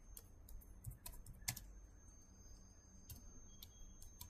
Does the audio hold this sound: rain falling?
no